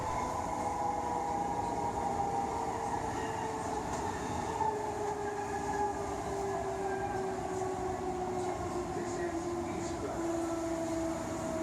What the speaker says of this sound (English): This train is now passing the extremely long Indian Pacific platform at East Perth Station.